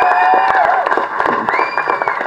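An audience at an Araathu Tamil movie press meet claps and cheers, with whoops and shouts rising over continuous lively applause that stays fairly loud.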